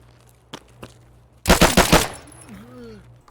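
A Makarov pistol fired at a scav in the game Escape from Tarkov: a tight burst of four or five sharp shots in quick succession, preceded by a couple of faint clicks and followed by a fading tail.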